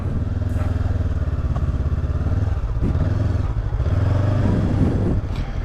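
Motorcycle engine idling and pulling at low speed during the slow-riding manoeuvre of a French A2 licence test, a steady close throb with slight throttle swells and a few clunks, no talk.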